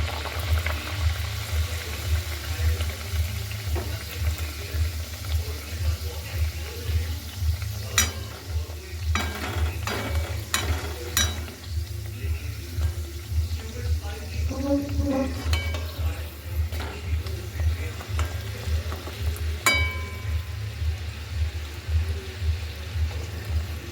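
Pea kachori fry in hot oil, a steady bubbling sizzle that carries through the whole stretch, with occasional clinks of a utensil stirring in the pan.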